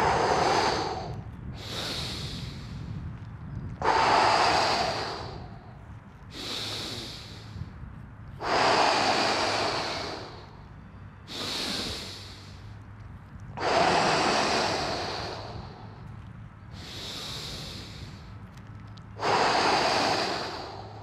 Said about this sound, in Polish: Mogę wykonywać ten oddech dynamiczny